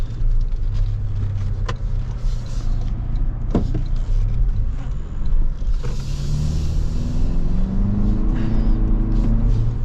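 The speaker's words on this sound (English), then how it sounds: "Trailhunter's raised air intake makes some cool noises" A 2026 Toyota 4Runner TRD Pro Trailhunter engine rumbles low and steady inside the cabin as it pulls, with whooshing intake noise from the raised air intake rising and falling, a few clicks and thumps, and no talking.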